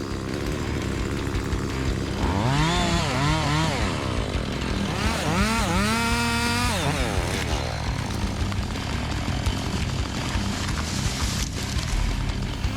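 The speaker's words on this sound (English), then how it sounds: "with just a few cuts with a chainsaw, the big tree fell down neatly" A chainsaw cuts through a large tree during felling, revving hard in two drawn-out bursts that rise and fall in pitch over a steady outdoor background, with no talking.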